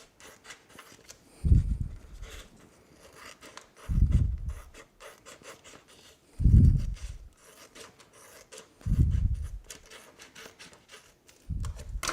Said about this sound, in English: So, I'm going to trim around this, kind of like the shape of the cup that I'm putting it on.